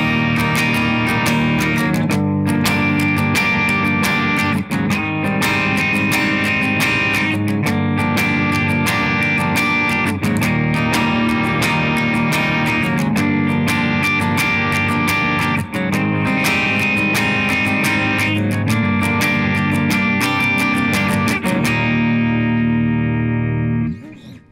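Rhythm guitar part for the chorus of a song, steady strummed chords across all strings in a driving even rhythm, loud and close, ending with a ringing chord.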